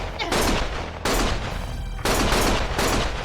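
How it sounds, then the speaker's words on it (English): Heavy gunfire in the video game Lost Judgment, three loud bursts of rapid shots separated by brief gaps, close and dense. "Stop shooting!"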